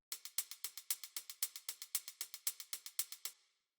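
Three layered hi-hats in an electronic beat tick out a rapid, even stream of bright, crisp hits for about three and a half seconds, then stop, played quietly and alone.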